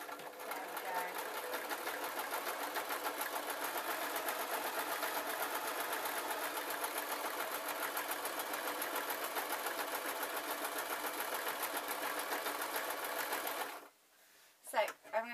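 Sewing machine running a plain straight stitch through fake lamb's fur for a cushion, fitted with a standard needle, whirring steadily and loudly for about fourteen seconds before stopping abruptly, followed by a few brief handling clicks.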